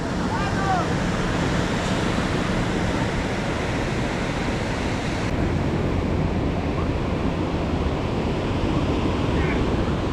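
Pacific Ocean surf breaking along a beach in Sinaloa, Mexico: a steady, loud wash of waves with wind buffeting the microphone, continuous for the whole stretch with no voices.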